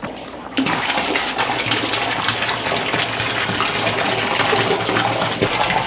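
A 3,000 gallon per hour water pump pushes pool water out in a loud, steady gush that starts abruptly and runs on unbroken, close by, with no voices.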